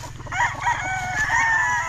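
A fighting rooster (gamecock) crows steadily and close by at a cockfighting-bird market, its harsh call sustained across the moment with a low rhythmic clucking or engine-like pulse underneath.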